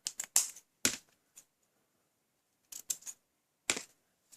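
Scissors trimming the tails of a ribbon bow: a few crisp, close snips in two short clusters separated by silence.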